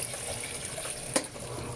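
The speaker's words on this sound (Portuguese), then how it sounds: "colocar um pouco de água para descer a água lá de trás." Water pours steadily into the dispenser reservoir of an Electrolux LES-series washing machine, a light continuous trickle and gush with one brief splash near the end, close up and without talk.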